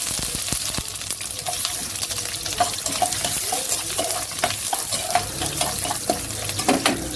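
Garlic and onion frying in cooking oil for kangkong adobo, a steady close sizzle with scattered clicks and scraping as the pan is stirred, no talking.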